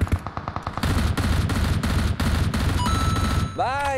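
Gunfire in PUBG Mobile: loud, dense bursts of rapid automatic shots that roll on almost without a break, ending in a swooping electronic tone.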